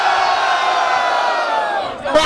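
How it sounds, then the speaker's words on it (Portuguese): A crowd at an outdoor rap battle shouts and roars for a rapper, a loud sustained wall of voices with a sharp spike near the end. "Barulho para as rimas de Johnny!"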